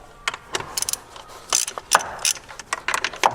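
A ratchet with a 10 mm socket loosens a clamp while a TurboXS blow-off valve is fitted to a 2019 Hyundai Veloster N, giving quick irregular bursts of sharp clicking close to the microphone, with no talk.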